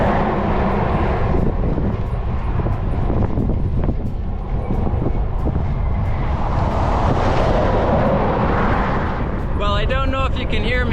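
Steady roar of heavy truck traffic rushing past on Interstate 80, dense and continuous, with wind buffeting the microphone and a brief horn-like tonal sound near the end.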